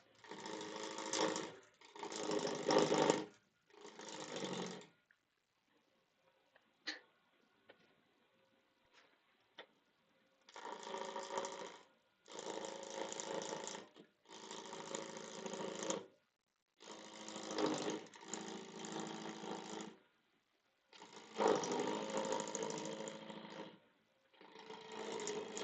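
Wood lathe spinning a workpiece held on a stub center, a loud whirring drone that runs in several bursts of a few seconds each, broken by short quiet gaps.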